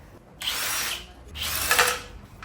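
Impact gun undoing engine sump bolts, two loud close whirring bursts, each about half a second to a second long, separated by a short pause, with no talking.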